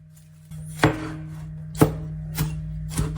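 Knife chopping ginger, turmeric and red onions on a board: four sharp, separate chops spaced about a second apart, close and clear over a steady low hum.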